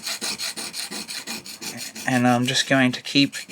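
The corners of a bevel-up hand plane blade are rubbed back and forth on a coarse sharpening stone, making a rhythmic rasping scrape in even strokes, close and clear, while someone talks over the later strokes.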